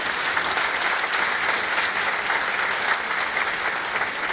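An audience at the opening of the Kazan International Muslim Film Festival applauds steadily, dense sustained clapping filling the hall without break and with no voices over it.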